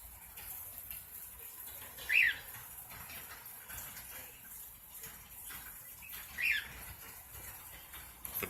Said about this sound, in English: The bird you hear in the background is Mr. Peepers, the cockatiel.